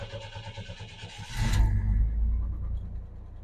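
A car engine cranks and catches after a jump start from a portable EAFC car starter, building into a loud, steady low rumble that settles into an idle.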